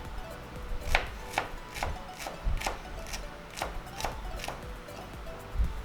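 A knife chops rapidly through a red onion on a cutting board, mincing it into a rhythmic run of crisp, close taps at an even pace with no talking over it.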